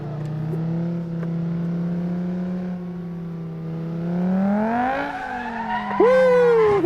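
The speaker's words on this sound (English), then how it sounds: "This car likes to drift. It's a drifty car." A car in the Assetto Corsa racing game drifts, its engine holding a steady drone under a rising whine before a sharp tire squeal breaks out near the end.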